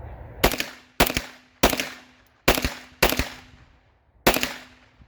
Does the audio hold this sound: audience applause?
no